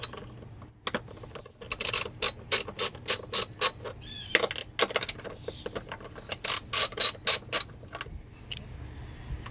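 A hand ratchet works loose the valve cover bolts on an engine during a valve cover gasket replacement, sounding as rapid bursts of sharp metallic clicking in repeated strokes, close and fairly loud, with no talking.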